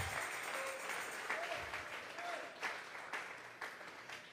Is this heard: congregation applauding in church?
yes